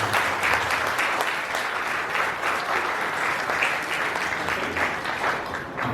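An audience at a youth day gathering claps steadily and loudly for several seconds, a dense, even wash of applause with no voices over it.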